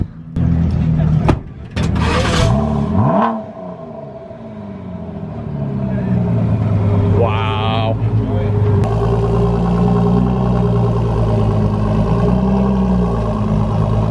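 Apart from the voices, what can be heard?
Ford GT engine starting up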